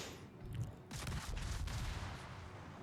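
Cannons firing in the World of Wars video game, a burst of heavy booming shots that rumbles on as a dense volley, moderately loud, with no talk over it.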